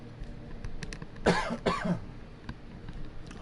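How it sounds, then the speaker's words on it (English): Two sharp coughs from eating dark chocolate, in quick succession, close and fairly loud, over quiet room tone. "Dark chocolate making me cough again as usual."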